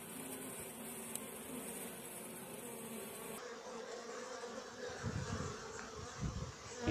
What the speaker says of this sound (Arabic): رفعت الإطار قام النحل بالهجوم